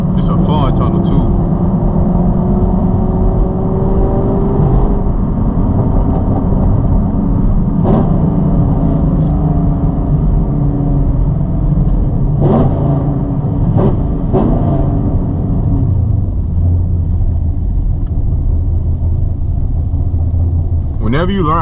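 Chevrolet Camaro SS V8 engine rumbling steadily from inside the car on a night drive, a continuous loud low drone with a few brief sharper transients and rev swells, heard alone without talk.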